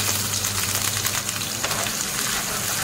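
Onions frying in a pan give a steady, close, dense sizzle that runs without a break and is heard alone.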